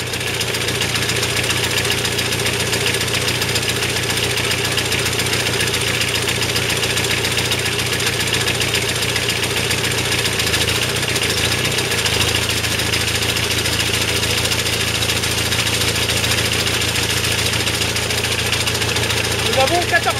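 A Super Pony tractor engine idles steadily with the alternator connected, a loud and close constant rumble with mechanical knocking that holds unbroken throughout.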